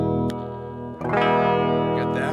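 A Fender Jaguar electric guitar played through effects, sustained distorted notes with chorus and echo that shift to a new, brighter tone partway through, loud and close.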